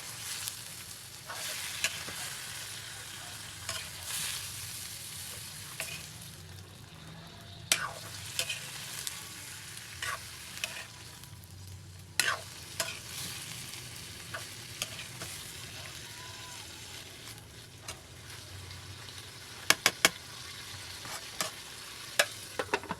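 Pork intestines frying in a pan, a soft continuous sizzle broken by scattered clicks and scrapes as they are stirred, close but fairly quiet, with no speech.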